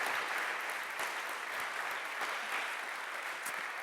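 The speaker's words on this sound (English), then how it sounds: "I would give a round of applause" Audience applause at a conference talk, a short burst of even clapping that sounds faint and distant and carries on steadily throughout.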